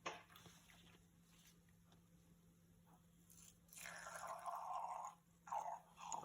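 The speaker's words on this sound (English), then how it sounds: "We need to pour all of it in here." Sodium hydrogen sulfate is poured into a bottle of tin chloride, giving a faint fizzing, gurgling liquid sound that swells in the second half. A low steady hum runs underneath.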